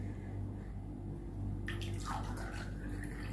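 Coconut water pours into two large glasses: a steady splashing stream starts partway through over a constant low background hum, with no talk.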